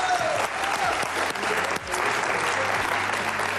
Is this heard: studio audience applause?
yes